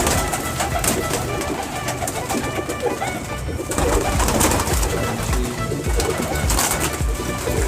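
Breeder pair of Teddy pigeons cooing in a loft, a dense continuous flock murmur with wingy rustles, close and steady throughout.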